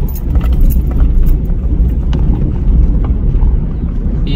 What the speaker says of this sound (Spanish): Ustedes ven aquí el tráfico no es cualquier cosa.